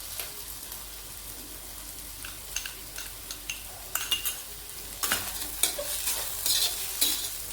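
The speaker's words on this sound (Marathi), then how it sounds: "आणि तुपात मिक्स करायचं सगळं," Potato, crushed peanuts and chopped chillies stirred as they fry in ghee in a pan for sabudana khichdi, a steady soft sizzle broken by scraping spoon strokes that grow busier and louder toward the end, no voices.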